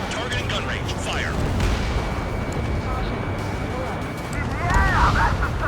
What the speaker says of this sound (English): Target in gun range. Fire.